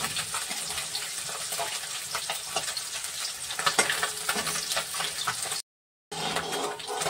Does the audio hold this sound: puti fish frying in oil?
yes